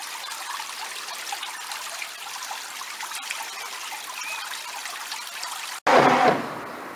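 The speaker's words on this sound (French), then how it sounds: "La vie de la commune est rythmée au bruit de l'eau qui passe." Water in the Lot village of Douelle flows steadily beneath a bridge, a constant soft rushing trickle heard up close, ending with a sudden louder burst of splashing.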